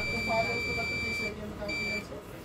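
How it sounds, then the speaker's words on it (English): A steady electronic multimeter continuity beep sounds in two stretches with a short gap between them, fairly quiet, with faint background noise underneath, testing a shorted VCC line on a TCL LED TV board. "Let's test the continuity. It is beeping"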